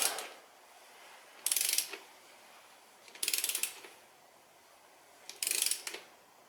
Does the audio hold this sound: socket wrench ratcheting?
yes